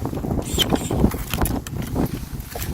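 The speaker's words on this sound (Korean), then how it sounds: "바람이 엄청 찹니다." A cold winter wind blusters steadily across the microphone outdoors during persimmon tree pruning, a continuous low rumbling rush with gusty swells that fills the whole moment and carries no clear voices.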